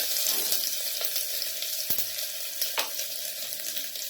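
Mustard seeds, cumin, green chilli, ginger and garlic sizzle in hot oil, a fairly quiet, steady hiss and crackle broken by a few sharp pops.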